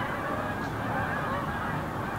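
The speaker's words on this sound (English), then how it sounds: "The geese in the background?" Several Canada geese honk repeatedly in the background, a busy, overlapping chorus at moderate distance.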